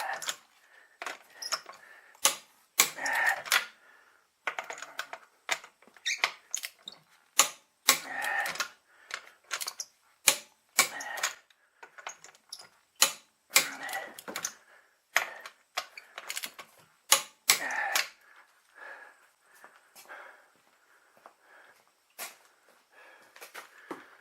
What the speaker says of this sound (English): I'm now doing the final torquing on all the rims.